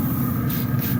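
A spray bottle hisses continuously as liquid is misted over tacos al pastor meat on a Pit Boss smoker, a short, close, steady spritz with no talking.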